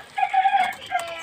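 Chickens cluck and a rooster crows nearby in a short burst, one drawn-out call followed by a briefer second, fairly faint against a quiet background.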